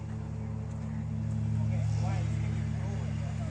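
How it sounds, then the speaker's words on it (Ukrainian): A tractor pulling a wagon of people through an apple orchard in Canada, its engine droning steadily and fairly loud throughout, with faint voices underneath. "Бачите, отаким трактором. Везуть людей далі."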